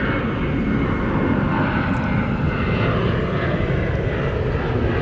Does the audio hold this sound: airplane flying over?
yes